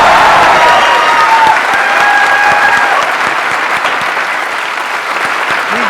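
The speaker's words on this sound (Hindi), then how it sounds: "हमें उनके लिए आज स्पेशली तालियां बजानी चाहिए" Sustained applause from a crowd fills the room, steady and loud throughout, with faint voices mixed into the clapping.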